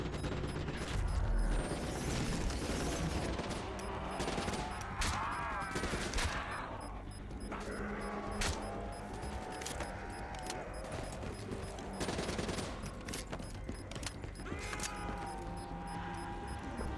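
Zombies fire guns in the Nightmares mode of Call of Duty: Black Ops III, a dense, continuous barrage of loud gunshots and crashing impacts filling the whole stretch with no talking.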